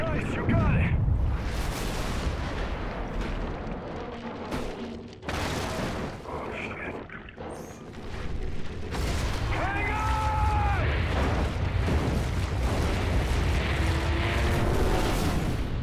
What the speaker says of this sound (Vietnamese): Mình đứng gần vụ nổ quá.